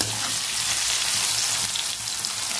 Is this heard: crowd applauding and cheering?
no